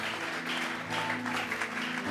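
A church congregation clapping an offering of applause during a sermon, a dense continuous patter of many hands at moderate distance, with no voices over it.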